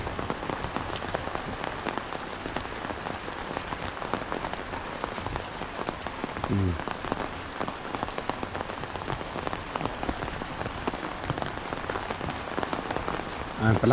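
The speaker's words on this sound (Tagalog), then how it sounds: "Palakas naman yung ulan" Heavy typhoon rain pours steadily, a dense patter of drops drumming on a surface at constant loudness throughout.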